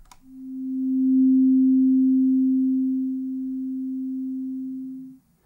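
A Sonic Pi synth tone shaped by an envelope with a quick attack, a slower decay and a sustain at quarter level: one pure steady pitch that rises fast, eases down, holds lower, then fades out, alone.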